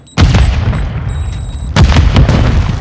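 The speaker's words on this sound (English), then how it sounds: "Stun grenade out!" Stun grenade detonating in Call of Duty, a sharp loud bang followed by a second blast and ringing tinnitus tones, with scattered gunfire in between.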